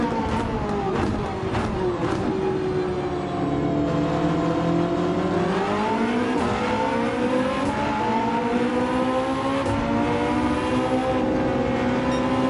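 A race car engine in Gran Turismo 7 drones and shifts pitch continuously, rising and falling through revs under braking and acceleration, loud and close throughout with no pauses.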